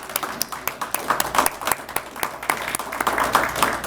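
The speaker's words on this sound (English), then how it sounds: "Please join me for one more round of applause." Audience applause for graduating probation corrections officers at an academy graduation ceremony, a spread of individual claps rising into a fuller, continuous round that builds toward the end.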